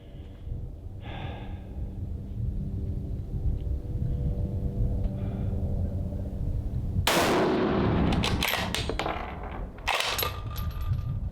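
Rifle fired from a bipod: a steady low rumble of handling and breathing, then two sharp, loud gunshot cracks a few seconds apart, each followed by a brief metallic ring, with no voices.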